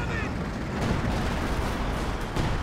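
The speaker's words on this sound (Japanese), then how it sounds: "歩兵砲を生産して遠距離から砲撃を仕掛けていける" Infantry gun artillery fire in Company of Heroes 2, a dense, continuous low rumble of distant shelling and gunfire with a few sharper blasts, steady and loud throughout.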